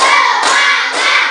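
A school class claps together in a rhythmic pattern, loud close hand claps in about three bursts.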